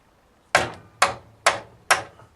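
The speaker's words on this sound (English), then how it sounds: "little hammer" A small hammer strikes a part on a Honda CBF600N motorcycle during a service, delivering four sharp, close metallic taps evenly spaced about half a second apart, each decaying quickly into quiet.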